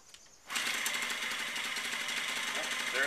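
A Yamaha Yamahopper moped's small engine catches after a quiet start and settles into a fast, steady, close idle with a rattling, buzzy pulse.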